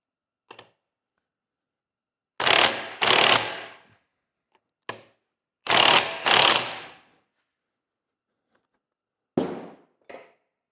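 A torque wrench is turned to measure breakaway and rotational torque, giving short ratcheting clicks in paired bursts separated by silent gaps, close and crisp.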